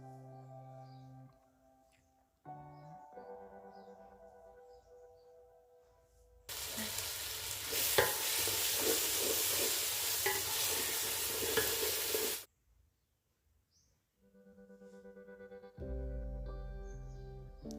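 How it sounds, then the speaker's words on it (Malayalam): Curry leaves hit hot oil in a pan during a Kerala chicken kurma recipe, giving a loud, steady sizzle with stirring scrapes that lasts several seconds between quieter kitchen clatter. "പിന്നെ ഇനി അതിലോട്ട് കറിവേപ്പില ചേർത്ത് കൊടുക്കാം."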